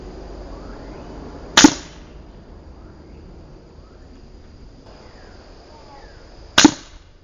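Two sharp smacks about five seconds apart as H&N 21.14 grain pellets from a Beeman Chief Plus air rifle strike a metal target, each a bright crack ringing briefly over quiet outdoor background with faint insects.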